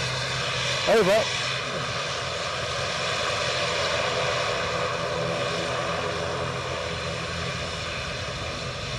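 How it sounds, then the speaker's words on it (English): An Aer Lingus ATR turboprop departs Edinburgh Airport, its broad engine roar filling the air loud and steady throughout, with a brief voice near the start. "the noise that was drowning me out is indeed that ATR to Dublin. Aer Lingus ATR to Dublin."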